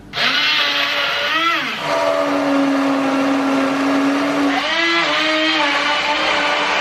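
A hand blender whirs loudly through pumpkin soup, a steady high motor drone that dips and strains twice as the blade bites, with no talking.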